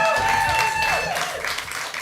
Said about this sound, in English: Round of applause for Ganit.